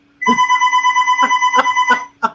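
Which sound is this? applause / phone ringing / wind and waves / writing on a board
phone ringing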